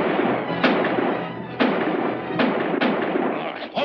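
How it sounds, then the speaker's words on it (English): Gunfire in a western movie, several sharp distant shots cracking at irregular intervals over a constant rumbling, noisy background. "Stop shooting at shadows before you slaughter each other."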